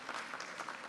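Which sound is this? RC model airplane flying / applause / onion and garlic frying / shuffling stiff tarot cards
applause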